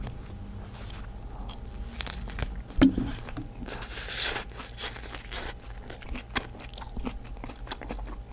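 Someone bites into a generously filled Sungsimdang bakery bread and chews it up close, with soft crunches, crackles and scrapes of the crust scattered over a quiet room and a sharp bite near the start.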